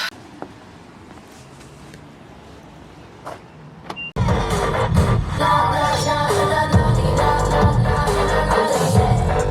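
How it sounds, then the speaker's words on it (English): A car interior: quiet cabin with a few small clicks and thumps, then a sudden jump to a loud, steady engine and road rumble as the car pulls away, continuing to the end without talk. "let's get in our car and drive and go run errands"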